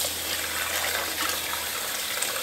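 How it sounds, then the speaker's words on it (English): Tap water gushes steadily into a kitchen sink as salmon pieces are rinsed under it, a continuous soft splashing stream close by with no talking. "head over to the sink here and get these a really good rinse"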